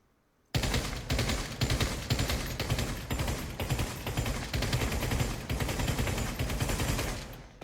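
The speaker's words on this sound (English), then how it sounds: "Now we have the DP-28. This is the Russian LMG." DP-28 Russian light machine gun firing in the Pavlov VR game, a loud sustained automatic burst of rapid evenly spaced shots lasting about seven seconds after a brief silent start, close and alone.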